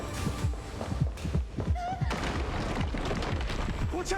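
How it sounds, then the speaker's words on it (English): Repeated low heartbeat thumps from the video game Honkai Star Rail, steady and evenly spaced, running under game music and sound effects with voices over them. "Oh, not the heartbeat."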